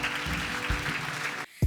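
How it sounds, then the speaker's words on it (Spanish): Church congregation clapping for the Lord during a sermon, a brief continuous spatter of many hands that cuts off abruptly near the end. "dale un fuerte aplauso al Señor"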